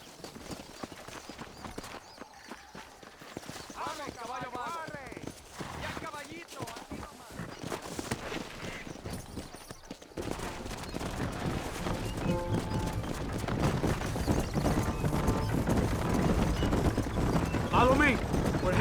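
Horse hooves clip-clop and gallop in the Red Dead Redemption video game, a busy rhythmic pounding that grows louder and denser partway through, with speech and game sounds mixed in.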